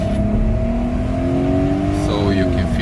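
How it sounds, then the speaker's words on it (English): A Mercedes W210 E420 V8 winding up hard on kick-down, a rising engine note that climbs steadily over a few seconds, close and loud from inside the car, with a voice speaking over part of it. "So you can feel the rev of the car, you can feel the power of the engine"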